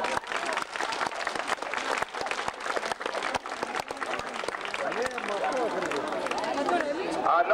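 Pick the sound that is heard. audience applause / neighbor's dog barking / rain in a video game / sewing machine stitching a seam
audience applause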